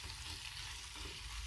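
Food stirred in a hot pan, a steady broadband sizzle with soft scraping of the spoon running continuously at low level, no voices.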